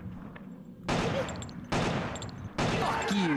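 Gunfire in the video game Killer7, three loud broadband bursts arriving in a steady rhythm about a second apart, each sustained and sharp over a low game hum and faint background music.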